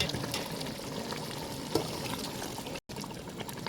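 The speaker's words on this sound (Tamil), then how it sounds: "தண்ணி பத்தலைன்னா தண்ணி ஒரு டம்ளர் ஊற்றிக்கணும்." Water poured from a tumbler into chicken masala frying in a pan for a Chettinad semi-gravy, giving a steady close sizzle and pour with a brief louder splash partway through.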